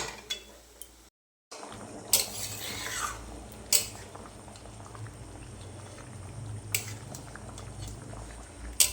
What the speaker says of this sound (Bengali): দেখো ঘুগনিটা ফুটে গেছে